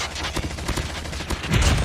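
Rapid gunfire from Call of Duty Mobile, an AK 117 rifle, fires in quick bursts with blasts near the end, fairly loud and close with no talk.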